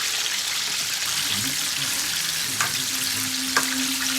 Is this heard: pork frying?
yes